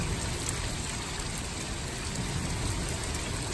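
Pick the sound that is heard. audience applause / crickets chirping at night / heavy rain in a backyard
heavy rain in a backyard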